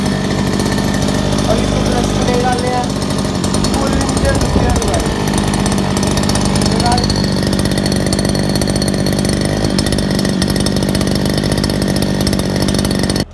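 A repaired brush cutter engine runs steadily after a kick start, a loud continuous buzzing drone with rattly mechanical texture that stays close and constant throughout, with no pauses.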